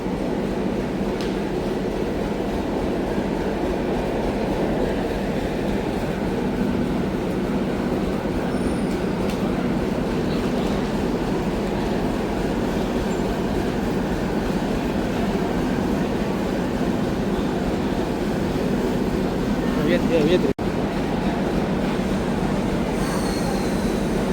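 The Yarl Devi passenger train pulls out of a station after a storm, its steady rolling rumble and wheel noise continuing close by for the whole stretch without pause.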